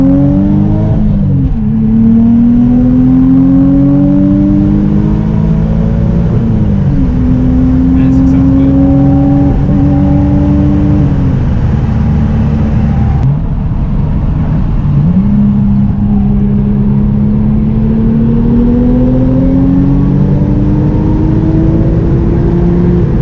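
A 1JZ-GTE swapped Lexus IS300 with a stock single turbo and a Grannas-built T56 transmission revs repeatedly, loud and close, each rev rising then falling back to a rumbling idle.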